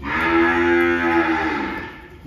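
A cow moos loudly and close by on a Vietnamese cattle farm, one long drawn-out low call that fills most of the moment and fades at the end, with no talking.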